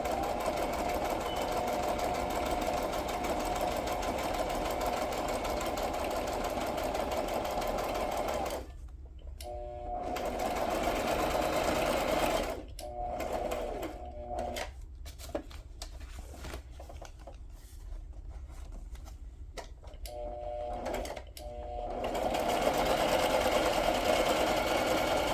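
A sewing machine stitches a flipflop journal base, its fast steady whirring running in several long bursts separated by short pauses, close and clear.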